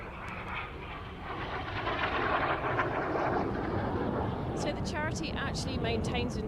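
A jet trainer with a Bristol Siddeley Orpheus turbojet at the RAF Waddington airshow, giving a sustained broad engine roar that swells slightly and holds steady, with a commentator's voice faintly over it near the end.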